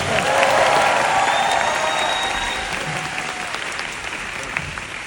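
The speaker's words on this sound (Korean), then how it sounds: "그 친구에게 큰 박수 한 번 주시면 감사하겠습니다" Concert crowd at a Seoul show applauds a visual director, a thick wash of clapping with some cheering that starts loud and slowly tapers over a few seconds, no voices on top.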